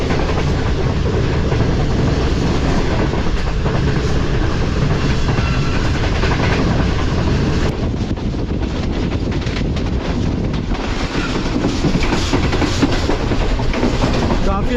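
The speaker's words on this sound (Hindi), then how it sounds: "काफ़ी अच्छे से ट्रेन स्किप करने जा रही है मेहराबपुर रेलवे स्टेशन को।" Shalimar Express train speeding past Mehrabpur railway station, a loud continuous roar of wheels and wagons rushing by at close range with rattling clatter throughout, steady and dense for the whole stretch.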